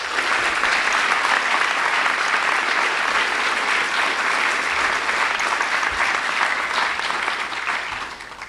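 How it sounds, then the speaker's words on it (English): A graduation audience at a firefighter academy ceremony applauds the instructor group, a loud, dense and steady wash of clapping that holds throughout before easing slightly at the end. "So one more round of applause for a wonderful instructor group."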